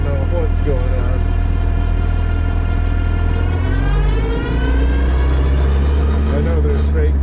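A Nissan KA24DE-powered car with a Speedtek straight-cut five-speed gearset runs steadily, a loud continuous engine drone with a rising and falling whine from the gears, close and constant throughout.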